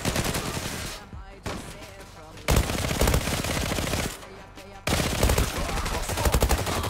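Rapid automatic fire from the Khaybar gun in the online shooter Zula, sustained loud bursts with short pauses between them, dense and close.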